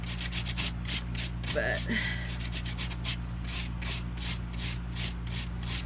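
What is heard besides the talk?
filing a metal bezel to deburr it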